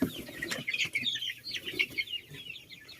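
Young chicks about one and a half months old in a grower house, a busy overlapping chorus of high cheeping and soft clucks, close and continuous.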